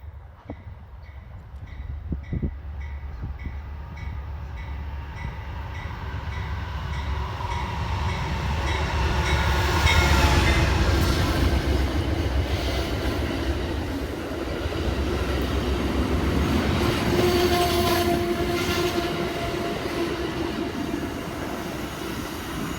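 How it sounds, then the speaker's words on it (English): Eastbound Amtrak River Runner passenger train approaching and rolling past near a station in central Missouri, a building rumble and rail noise swelling to a steady roar, with horn tones sounding briefly near the end. "we're set up near the Amtrak station, in time for this eastbound River Runner train"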